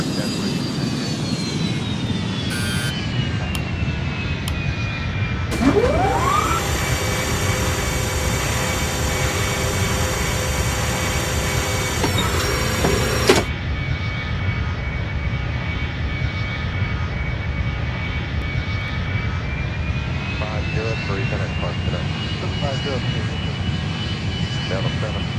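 An Airbus A310 coming in to land passes with a steady jet-engine roar and a rising whine that swells then fades, heard from an airfield over ongoing background noise; radio voices can be heard around it.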